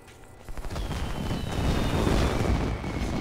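The Needler weapon from the Halo video game fires as a loud, swelling rush of crackling, hissing bursts that builds into a sustained noisy roar, with no one talking.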